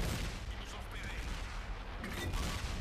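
Tank cannon fire in World of Tanks, a dull distant boom blended into steady rumbling engine and battlefield noise.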